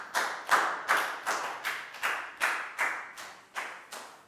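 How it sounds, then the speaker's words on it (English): Clapping rings out in a classroom for a pupil, about a dozen evenly spaced, crisp claps in a steady rhythm, close and clear with no talking over them. "a big round of applause for Prau"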